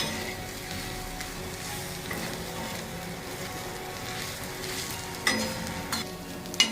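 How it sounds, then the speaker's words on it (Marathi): Bombil (Bombay duck) thecha chutney is stirred in a hot pan, making a steady, close sizzle with soft scraping throughout and a few sharper clinks near the end. "आता मस्त याला काही सेकंड आपल्याला अशी हलवून घ्यायची"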